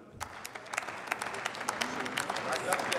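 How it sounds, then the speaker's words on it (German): A parliamentary faction in the German Bundestag applauds, a steady patter of many hands clapping that swells slightly over a few seconds, moderately loud and filling the chamber. "Dass hier meine Fraktion zu diesen drei Sätzen applaudiert hat."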